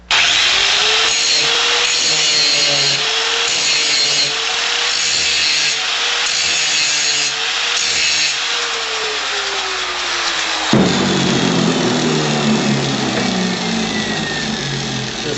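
A saw's teeth are sharpened with a 6-inch green grinding wheel, a steady close abrasive whine and rasp running throughout, dropping in pitch near the end as the wheel slows.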